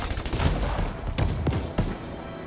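Shotgun fire in the video game Anthem booms through dense, continuous game noise, with several heavy blasts spaced about a second apart over a rumbling, layered battle soundscape.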